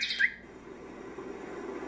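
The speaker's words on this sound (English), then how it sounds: "So birds singing, I'm not sure how this would be making anyone sleepy." Birdsong setting on a portable white noise machine: a brief bright chirp at the start, then a soft, steady background hum, no talking.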